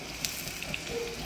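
Vegetarian omelette batter hits a hot pan over medium heat, giving a soft, steady sizzle and hiss that stays faint and even throughout with a few small pops.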